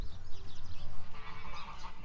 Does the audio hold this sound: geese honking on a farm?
yes